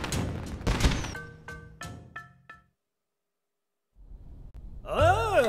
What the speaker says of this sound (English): Never seen fireworks with these colors before.